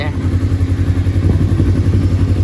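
A cold Kawasaki Versys-X 300 with 100,000 km on it idles after starting, a loud, close, steady low rumbling beat that runs throughout, with someone talking over it.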